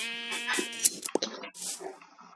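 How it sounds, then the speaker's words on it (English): Sheep bleat several times in a blocky sandbox video game while the player looks for sheep to shear, the bleats short, close and wavering, with small game clicks and effects between them. "I'm going to go shear some sheep."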